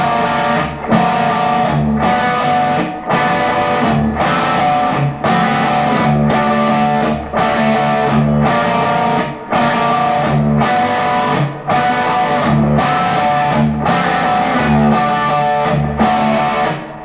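A guitar plays a riff in a loud, steady loop, with repeated chugging phrases in an even rhythm and brief dips between cycles, performed alone with no talking.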